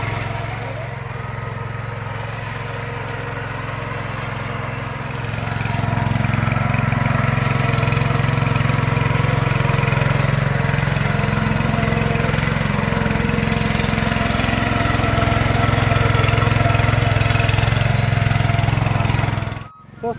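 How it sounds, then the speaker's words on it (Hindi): A tractor engine works a hillside field during field preparation, chugging steadily near and loud, growing heavier midway as it pulls harder, before cutting off abruptly at the end. "ट्रैक्टर जो है इस वाले खेत में आ गया है दोस्तों अभी।"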